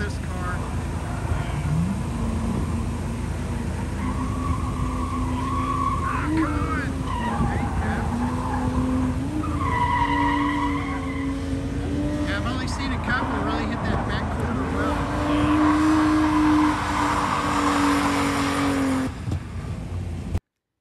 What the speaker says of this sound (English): So let me play for you 2 more clips of drifting